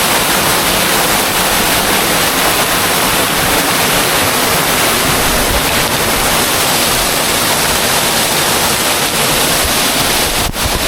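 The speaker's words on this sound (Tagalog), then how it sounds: "nasa ilalim tayo mismo ng binabagsakan ng tubig" Bolinao Falls in Pangasinan heard from directly beneath the falling water: a loud, dense, unbroken roar of water pouring down onto rocks, close and steady with no talk.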